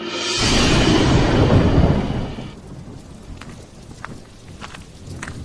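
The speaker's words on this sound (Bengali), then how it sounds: "এই হালকা হালকা করে বৃষ্টি শুরু হলো" A cartoon rainstorm begins with a loud rumbling wash of rain and thunder, then settles into light, quiet patter with scattered drops close by.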